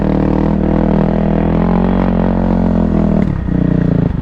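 A 2024 Kawasaki KLX300R dirt bike engine chugs steadily at low throttle in first gear on a cross-country trail, a loud, close, even putter with a brief dip near the end.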